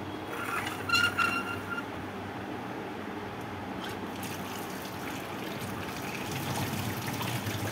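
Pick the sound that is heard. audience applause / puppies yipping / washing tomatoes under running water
washing tomatoes under running water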